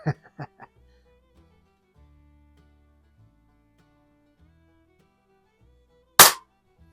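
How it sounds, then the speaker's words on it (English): A Weihrauch HW40 air pistol fires RWS R10 pellets at a can. A few quick sharp cracks come at the start, then near-silence with faint clicks, then one loud close shot near the end. "I'm just going to shoot it at the can, a couple of shots for our mail call video here."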